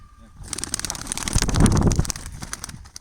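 Racing pigeons at a coop give off cooing and fluttering, rising to a busy, close cluster of bird sounds in the middle before easing off, with faint voices in the background.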